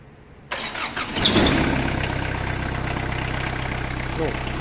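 A small Kubota X20 Japanese mini tractor engine cranks and catches at about half a second, then settles into a steady, close idle with a mechanical hum.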